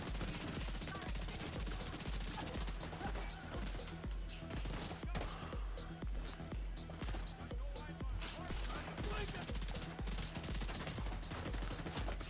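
Rapid automatic gunfire rattles nonstop in The Division 2, a dense, loud run of shots with brief shifts in intensity throughout.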